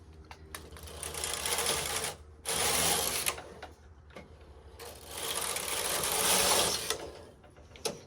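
A knitting machine carriage rasps back and forth in loud, whirring passes, each stroke ending in a brief pause and a clack.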